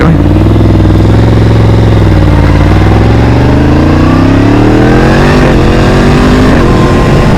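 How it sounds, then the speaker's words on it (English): A motorcycle accelerates hard with a quick shifter, the engine note climbing steadily and then breaking briefly at a gear change before rising again. It is loud and close, with no talk. "But listen to that quick shifter."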